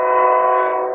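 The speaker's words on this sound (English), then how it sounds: "that train never escapes me" A passing train sounds its horn in one loud, sustained, steady tone lasting the whole brief moment, close by and with no talk.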